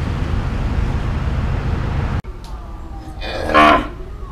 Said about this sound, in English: Look at that, there's 2 cows on the temple grounds here.